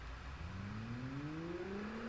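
Car engine in the driving game Test Drive Unlimited Platinum, a steady faint hum whose pitch climbs gradually as the virtual car revs and accelerates, heard alone without talk.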